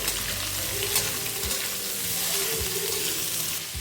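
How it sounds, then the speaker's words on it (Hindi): Four large sliced onions frying over a medium flame for paneer bhurji, a steady broadband sizzle throughout with a few soft stirring knocks of the spoon in the pan, close and fairly loud. "प्याज को हम मीडियम फ्लेम पे भूनेंगे"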